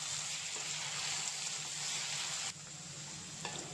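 Okra (bhindi) fries in a pan while being stirred, making a faint, even hiss with a couple of light utensil taps, the sizzle dropping slightly in level partway through.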